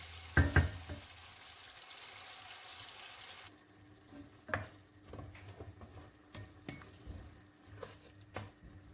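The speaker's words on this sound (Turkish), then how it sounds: "Karıştıra karıştıra şöyle arkadaşlar düzeltiyorum." Meat kavurma fries in its own fat while being stirred, producing a quiet sizzle with intermittent scraping and knocks of a utensil against the pan, close and without talk.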